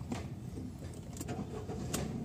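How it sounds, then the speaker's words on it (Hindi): A Celerio car engine cranking and starting close by, a steady low rumble with faint rattles, heard alone without talk. "गाड़ी हम स्टार्ट करेंगे"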